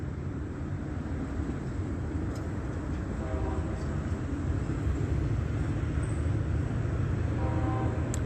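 A Metrolink commuter train rumbles past as a steady, broad roar that holds for several seconds at moderate distance, with faint higher tones rising near the end.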